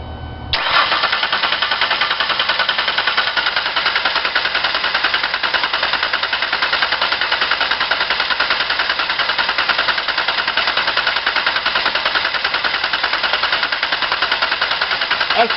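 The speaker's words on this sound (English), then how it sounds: "put the gas pedal to the floor and try to start the engine until I tell you to stop." A 2003 Ford Escape engine cranks continuously on the starter during a compression test with the gas pedal floored, a steady, even, whirring chug that begins abruptly and runs without firing or pause, fairly loud and close.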